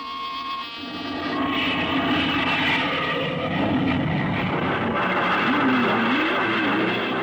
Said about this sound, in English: Clear for takeoff, Charlie? Right. Okay. Give him the light.